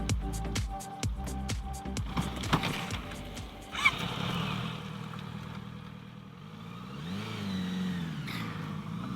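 A car engine nearby revs and idles on a road through seaside scrubland, with rapid clattering bursts early on, then a steady mid-pitched engine drone that dips and swells as it moves.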